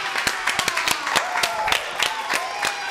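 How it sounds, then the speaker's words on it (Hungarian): Studio audience clapping, a moderately loud sustained patter of many hands with sharp individual claps standing out, no voices over it. "Tapsolják!"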